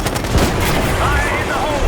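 Call of Duty Black Ops 6 combat fills the air with dense, continuous gunfire and rumbling blasts, loud and chaotic, with a voice speaking over the battle.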